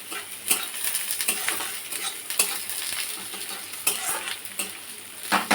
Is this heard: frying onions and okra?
yes